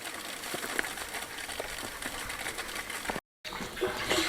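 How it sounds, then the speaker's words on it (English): Steady rushing and trickling of water flowing through a pipe into an IBC tank, continuous and fairly close, with a brief dropout near the end. "I can hear it flowing"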